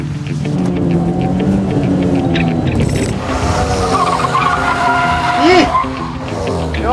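Race car, a Renault Sandero R.S. 2.0 in a race series, skidding after missing a curve, engine roar and tire squeal heard from a distance over steady crowd and commentary noise, with people talking excitedly throughout.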